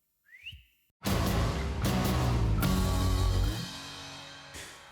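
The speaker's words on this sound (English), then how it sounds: "Would you do the honours and blow the full-time whistle?" A full-time whistle is blown close up: a short rising whistle tone comes first, then a loud, sustained blast of breathy noise that holds for a few seconds before dropping away.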